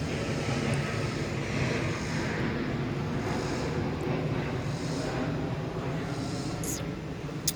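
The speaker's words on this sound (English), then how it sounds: "Hold on, there's an airplane." An airplane passes overhead outdoors, a steady broad engine roar that holds at a fairly even level for several seconds, with some wind noise on the microphone.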